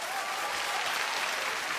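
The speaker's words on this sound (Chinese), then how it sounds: "掌声欢迎。" A studio audience on a Chinese TV job-recruitment show breaks into sustained, even applause, dense and close throughout with no pauses.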